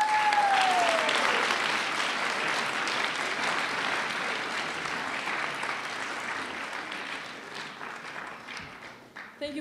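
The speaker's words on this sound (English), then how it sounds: "one more round of applause for the new inductees" Sustained applause fills an auditorium at a school National Honor Society induction ceremony, a steady wash of many hands clapping that slowly thins toward the end.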